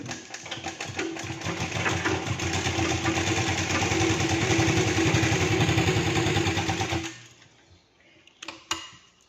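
A sewing machine runs steadily, stitching a blouse seam in a continuous rapid mechanical whir for about seven seconds, then stops abruptly, leaving a couple of faint clicks and handling sounds.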